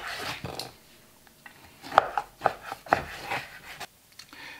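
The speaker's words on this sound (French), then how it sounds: "pour mixer tout ça, je commence par venir couper des lanières ici" A knife slices beef into strips on a cutting board for burger mince, giving a few soft, uneven cutting strokes with sharp taps of the blade against the board, close and fairly quiet.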